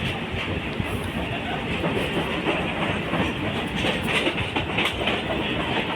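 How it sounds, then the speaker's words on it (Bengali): A local train rolls past under a flyover continuously, its wheels clattering in a steady clickety-clack with a constant rushing roar and no voices. "ফ্লাইওভারের নিচে দিয়েই ট্রেনটা বেরিয়ে যাচ্ছে এবার"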